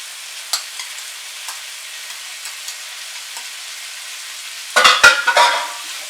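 Bacon frying with sliced onion in a pan: mostly faint scattered ticks, then a louder burst of sizzling and stirring near the end.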